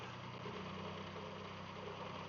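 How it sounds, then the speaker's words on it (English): A narrowboat engine throttles up in the countryside, a low, steady mechanical drone with a faint knocking rhythm, continuous and fairly quiet throughout. "finally, we can throttle up"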